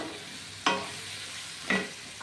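Chopped cabbage frying with tomato in a pan, two brief stirring scrapes over a soft, quiet sizzle.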